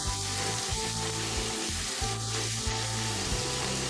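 Diced tomatoes, garlic, salt, oregano and paprika sizzle and fry steadily in a pan, a continuous close hiss with faint stirring scrapes, no voices.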